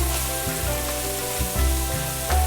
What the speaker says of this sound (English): Give this brown meat a stir